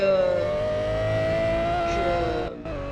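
Car driven in the Roblox video game, a steady loud engine drone with rising pitch as it accelerates, close and continuous, briefly dipping near the end.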